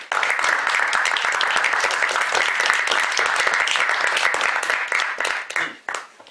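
People gathered around a table burst into hearty group applause, a close, lively clatter of many hands clapping that holds steady, then thins into a few scattered claps before stopping.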